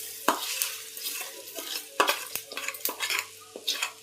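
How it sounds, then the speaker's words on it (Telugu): Utensil scraping and stirring as tempering of mustard seeds, fenugreek, garlic, dried chillies and curry leaves goes into cauliflower pickle, with light sizzling, a series of sharp clinks and scrapes at an irregular rhythm, close by, no talking. "ఈ తాలింపు అయితే ఇందులో వేసుకుంటున్నాను."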